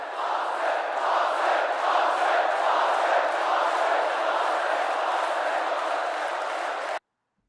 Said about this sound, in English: that's people cheering.